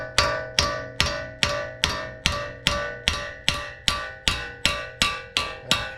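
A hammer pounds a seized CV axle on a Toyota 4Runner with about fifteen sharp metallic blows in an even, steady rhythm. Each strike rings close and loud, then decays before the next.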